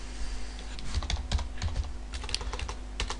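Fingers type on a computer keyboard in quick irregular bursts of sharp clicks, close and moderately loud, with no voice.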